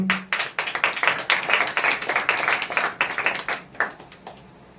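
A congregation at a Sunday church sermon claps in a steady, loud, rhythmic burst of close, sharp handclaps that runs for several seconds and then stops.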